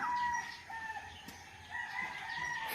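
A rooster crows faintly in the distance, its drawn-out call rising and falling over a quiet outdoor background.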